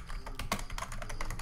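Typing on a computer keyboard, a quick run of close, clicky keystrokes at an uneven pace with no voice over it.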